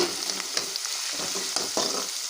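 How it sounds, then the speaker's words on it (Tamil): Onions for a Tamil-style dried shark fish thokku sauté in a pan, browning with a steady sizzle broken by repeated scrapes and stirs of a spoon, close and fairly loud, with no voices. "இப்போ வெங்காயம் வந்து நல்லா வதங்கணும் நல்லா ப்ரௌனாக வந்து வதங்கி வரட்டும்"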